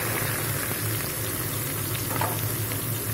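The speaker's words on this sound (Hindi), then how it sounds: "और इसको अच्छे से ऑयल में फ्राई करेंगे और इसको भून लेंगे।" Chopped onions and green chillies fry steadily in hot oil with cumin, a continuous moderate sizzle and crackle heard close with no talking.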